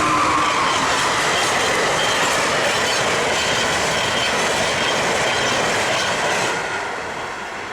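A train pulls out of Perryville station with a loud, steady rumble and wheel roar close by, easing slightly quieter toward the end, with no talking.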